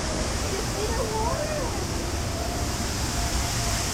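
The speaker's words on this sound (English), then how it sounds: "Going behind the waterfall. You see the waterfall, Bubba?" A waterfall at Disney's Animal Kingdom near the Tree of Life, a steady loud broadband rush of falling water that fills the whole stretch evenly, close and continuous, with faint bird chirps above it.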